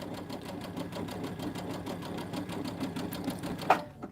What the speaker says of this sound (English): we're going to backstitch at the top here, just to make it a little stronger for when we turn it.